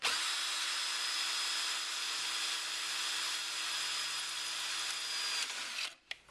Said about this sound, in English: I'm just going to drill a little pilot hole through there, roughly in the middle.